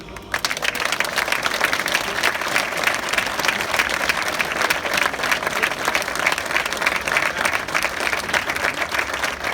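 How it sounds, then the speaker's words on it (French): Sustained applause from an audience at a veterans' commemoration ceremony, dense and even clapping from many people continuing steadily with no pause. "Je vous demande de les applaudir."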